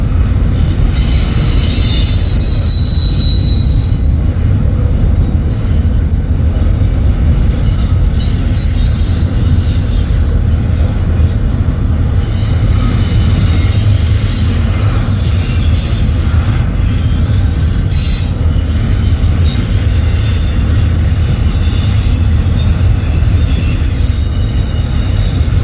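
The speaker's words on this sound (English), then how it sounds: "train just came off the Columbus sub and is now on the Blair Fremont sub" Union Pacific 1943, a heritage locomotive leading a train in Fremont, Nebraska, rolls past close and loud for the whole stretch, with steady rail rumble, wheel clatter and intermittent high wheel squeal.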